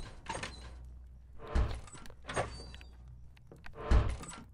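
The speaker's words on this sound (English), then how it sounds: "Stop slamming doors in the halls" Doors slam repeatedly in a Roblox horror game modeled on FNAF 4: four separate heavy thuds with sliding rasps, spaced about a second apart, sounding moderately close with no talking.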